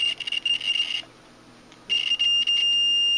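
A digital multimeter's continuity tester beeps as its two probes touch, giving a steady high-pitched tone that stops for about a second and then sounds again, clear and close, with no voices.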